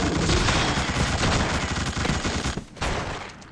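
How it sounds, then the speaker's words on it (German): Sustained machine gun fire in the video game The Suffering, a loud, rapid continuous burst of shots that rattles on for several seconds before tapering off, with no talking. "Benutzen wir dem Maschinengewehr."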